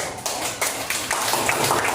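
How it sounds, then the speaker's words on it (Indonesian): A classroom of students claps for a group that gave the correct answer, a dense burst of applause that holds steady for a couple of seconds. "Ya, tepuk tangan dulu."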